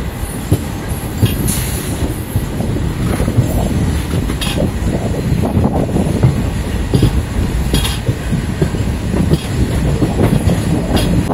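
A Circar Express passenger train running from Kakinada pulls into Samalkot Junction, its steady loud rumble of wheels and carriages punctuated by sharp metallic squeals and clatter, with no voices.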